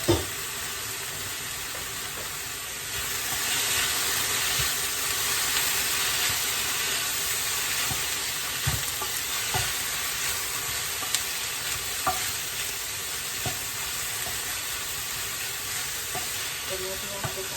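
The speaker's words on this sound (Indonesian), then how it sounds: "kita masukkan daging yang sudah dimasak itu ya." Cooked beef tipped into a hot pan for a simple Indonesian beef-and-egg dish fries with a steady, close sizzle and hiss that swells after a few seconds, broken by occasional clicks and scrapes of stirring.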